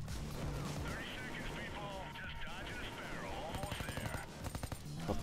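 Rapid automatic fire from a G36 rifle in PayDay 2, bursts rattling under near-constant talk, with sharper, louder shots crowding the last second.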